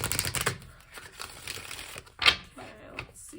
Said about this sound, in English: we'll do one more shuffle and we'll just cut your guys' deck here.